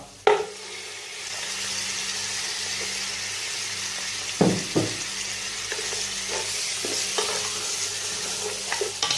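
Half a kilo of goat leg mutton frying with lightly golden onions in a pot on high flame, a steady loud sizzle with a few stirring scrapes and clunks, close up and without speech.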